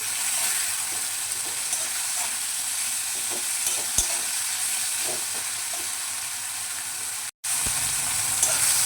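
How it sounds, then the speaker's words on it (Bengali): Chopped onion and tomato with a spoon of salt frying in a pan, a steady bright sizzle with occasional spatula taps and stirs, close and continuous apart from a brief cut. "এবার এইটাকে ভালো করে ভাজবো"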